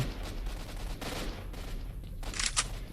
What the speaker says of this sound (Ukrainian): там хтось щось стріляє